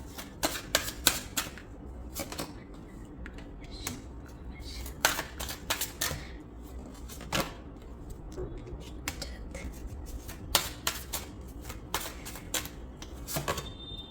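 Tarot cards being shuffled and drawn by hand, heard close as bursts of crisp flicking and snapping card sounds with irregular pauses between them.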